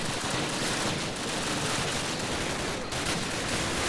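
Gunfire in the video game Call of Duty, a dense, continuous barrage of shots that fills the whole stretch at steady loudness, with no voices over it.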